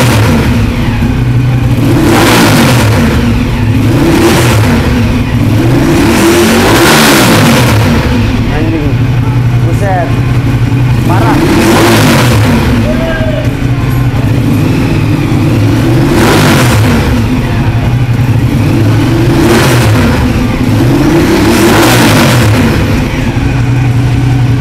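A 1200 cc Ducati Diavel motorcycle engine with an aftermarket exhaust revs hard in repeated bursts over a steady rumbling idle, loud and close, with throaty roars rising and falling.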